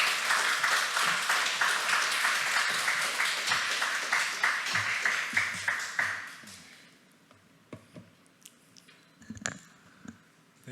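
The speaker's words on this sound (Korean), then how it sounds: "우리 이종훈 선교사님 나오실 때 큰 박수로 환영하도록 하겠습니다" A church congregation at a Friday prayer meeting applauds to welcome a missionary, a dense, steady burst of clapping that fades after about six seconds into quiet room sounds and scattered movement.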